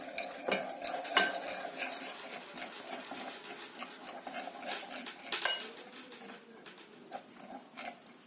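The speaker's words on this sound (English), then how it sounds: "Now we should give this a nice whisk. Make sure you stir that really nicely." Whisk stirring liquid peanut butter cookie ingredients in a bowl, with quick, irregular close clicks and scrapes against the bowl, fairly quiet and without speech.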